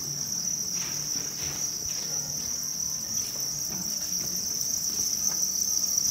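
Farmed crickets raised in winter under incandescent bulbs on a Vietnamese cricket farm chirp in a dense, steady, high-pitched drone, loud and unbroken throughout, with faint rustling beneath.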